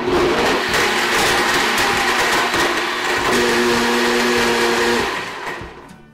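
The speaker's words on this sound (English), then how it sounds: "Well, the blender is probably going to do a lot of this for us." A kitchen blender runs steadily, puréeing a lemon, rosemary and kale smoothie. The motor whirs at a loud, constant pitch for about five seconds, then spins down and fades to quiet.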